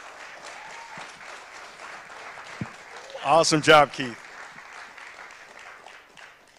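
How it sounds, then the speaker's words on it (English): Audience applause at a live charity benefit broadcast, heard as a short burst of clapping in the middle, with talking before and after it. "give yourselves a great big round of applause"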